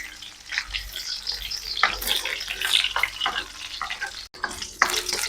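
Shallots and garlic sautéing in hot oil, a steady crackling sizzle with bursts of stirring and scraping throughout, fairly loud and close.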